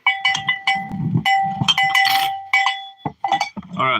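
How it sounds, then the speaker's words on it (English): A bell rung close by among goats on a homestead, clanking in repeated irregular bursts across the whole stretch, with no talk over it. "All right, leave the bell alone, please."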